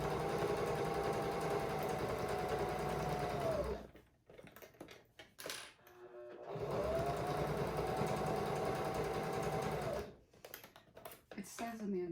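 Sewing machine stitching quilt fabric for a tree quilt, running in two steady bursts of about four seconds each, separated by quieter handling noises and thread work.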